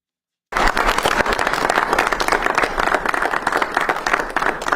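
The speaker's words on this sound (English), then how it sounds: "So really, you're applauding her" An audience at a comedy show breaks into applause, starting abruptly after a moment of silence and continuing as dense, steady clapping with crisp individual claps throughout.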